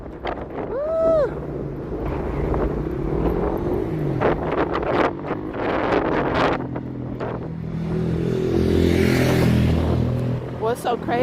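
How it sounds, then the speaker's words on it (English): Gusty outdoor wind buffets the microphone on a Las Vegas street, rumbling under a person talking, with traffic passing nearby and a brief whoosh midway. "What's so crazy about the wind out here in Vegas?"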